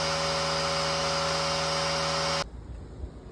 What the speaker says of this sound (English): Now I charge up my air compressor.